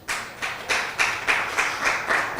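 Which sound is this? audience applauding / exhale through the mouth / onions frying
audience applauding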